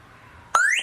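A cheap motorcycle MP3 alarm suddenly bursts in with a loud, rising, sweeping electronic siren tone, abrupt and close after a quiet hum.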